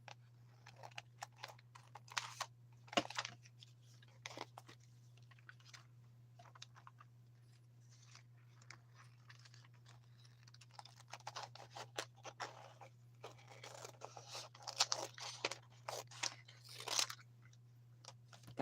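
Paper being trimmed to size for foiling and laminating, with scattered crisp cutting and scratching sounds in irregular bursts over a steady low hum, fairly quiet and without talk.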